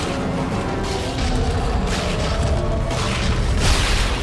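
Plasma cutter fired in Dead Space 2, heavy booming bursts and mechanical whooshes from the game, repeated several times in quick succession over a dense rumbling background.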